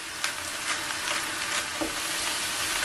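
Vegetables sauté in a hot pan with salt and pepper, a steady close sizzle broken by scraping stirs every half second or so, continuous for about three seconds with no voices.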